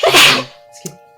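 A single loud, close sneeze with a sharp burst of breath, followed by a faint brief catch of sound and then near silence.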